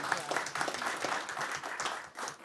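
A room at a college district board meeting breaks into steady applause. Many hands clap at once for a couple of seconds, moderately loud and fairly close.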